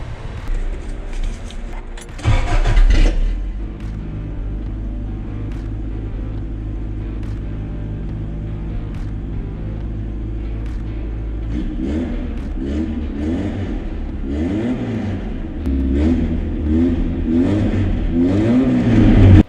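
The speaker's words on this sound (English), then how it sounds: "Feels a little early to start the truck with an open header" Truck engine with an open exhaust header cranks and fires, then idles with a loud, raw, rumbling bark and revs up and down repeatedly, growing louder toward the end.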